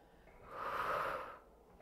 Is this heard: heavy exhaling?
yes